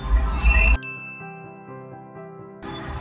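A bright notification bell for a subscribe icon rings out in a single clear ding whose tone lingers and decays for nearly two seconds after a burst of louder sound.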